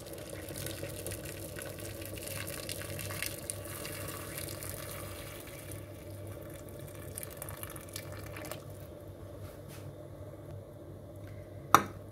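Hot water is poured into a cooking pot while making couscous with meat and vegetables, a steady liquid rush lasting several seconds before thinning out, ending with a single sharp click.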